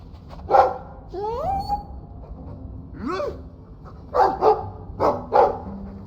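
A dog in the video game Dragon Age 2 gives a few barks and yips with whining rises, close and moderately loud, followed by a quick run of short barks near the end.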